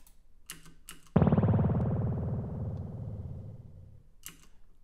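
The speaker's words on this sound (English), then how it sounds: "Then we're going to use a real spring reverb impulse response." A sudden twangy, metallic splash that rings and slowly decays with a wobbly, springy shimmer, framed by a few faint clicks.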